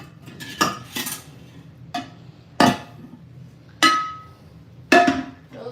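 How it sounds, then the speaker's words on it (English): Dishes and cutlery clatter in a kitchen sink as awkwardly stacked plates are handled, with six or so sharp ringing clinks and knocks spaced unevenly, close and fairly loud, with no talking. "You think you have a gang of dishes, but really it's just awkwardly stacked dishes."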